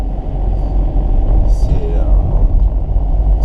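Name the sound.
Volkswagen Golf 4 car being towed with a tow bar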